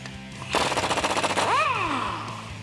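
A power wrench with a 19mm socket removing the lower shock bolt on a 1987-era Jeep Wrangler YJ: a loud rapid hammering rattle of about a second, then a falling whine as it spins down.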